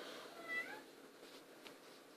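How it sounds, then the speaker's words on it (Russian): A faint, short cat meow rises and falls once against a quiet background. "Это кошка."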